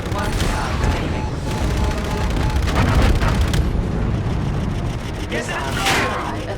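Missiles firing during a Call of Duty: Infinite Warfare campaign battle, a dense, loud run of booming launches and blasts over constant rumble, with radio-style voice callouts in between.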